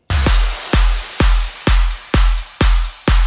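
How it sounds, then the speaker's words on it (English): An electronic dance drum pattern of claps layered with a kick plays on its own, seven loud, evenly spaced hits, each a deep thump paired with a bright, splashy clap that rings briefly before the next. "Just a few claps and a kick."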